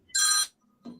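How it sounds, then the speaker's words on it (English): A short electronic phone ringtone, bright and buzzy, sounds once in the background. It stops, and then a faint, low noise follows. "Your phone, something's ringing in the back."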